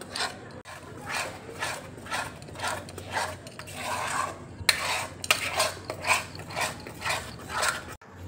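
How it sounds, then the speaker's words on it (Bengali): Gram flour batter being stirred in a pan over a gas flame, with rhythmic scraping strokes of a utensil against the metal, close and repeated with short pauses. "গ্যাসটা দেখো জ্বালিয়ে দিয়েছি, খুব ভালো করে আমাকে নেড়ে যেতে হবে"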